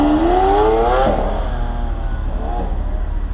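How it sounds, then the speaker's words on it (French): An orange Lamborghini Aventador SV engine revs up with a rising whine, then roars past and fades into steady road noise, fairly close and loud, in Monaco. "une Aventador qui arrive assez fort là-bas"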